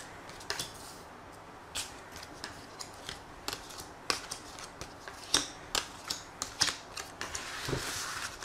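Tarot cards are shuffled and drawn at a table, giving a series of crisp, close flicks and soft slaps that grow more frequent toward the end, with no talking.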